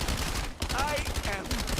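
Rapid SMG bursts in a Call of Duty game crackle up close in two quick volleys separated by a short gap, loud and dense, with speech faintly mixed in.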